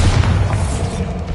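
A Bombarda spell explodes in Hogwarts Legacy, a loud, heavy low boom rumbling continuously through the short moment with no talk over it.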